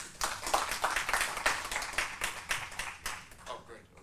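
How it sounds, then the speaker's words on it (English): A tech event audience claps for a speaker, a run of distinct, fairly close hand claps in a loose quick rhythm that continues throughout and softens slightly toward the end. "Let's clap for Somali"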